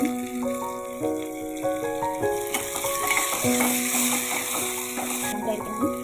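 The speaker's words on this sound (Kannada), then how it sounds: "ಈ ಬೊಗಣಿಗೆ ಎಣ್ಣೆ ಹಾಕೊಂಡಿದ್ದೀನಿ. ಇದಕ್ಕೆ ಈರುಳ್ಳಿ ಹಾಕ್ತಾ ಇದ್ದೀನಿ." Onions, curry leaves and tomato fry in oil in a pan, giving a steady sizzle with occasional stirring. A melodic tune plays over it throughout.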